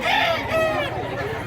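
A rooster, a pumpkin-colored bullstag, crows loudly and close in a short wavering call, with a voice speaking beneath it.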